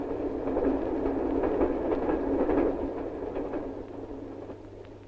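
A 1965 passenger train standing at Burkino station on a winter trip from Saratov, giving a steady low rumble and hum that slowly fades, with no talk.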